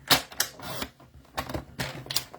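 A paper cutter slices paper strips about two and a quarter inches wide for a small tilting box, giving several sharp, close crunching cuts in uneven bursts with brief pauses between them.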